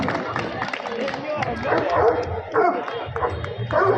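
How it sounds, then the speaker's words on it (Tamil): At the 47th Yercaud dog show a Great Dane barks in short, irregular deep woofs and yips, mixed with crowd noise and a voice talking over it. "கிரேட் டேன் என வகை நாய்"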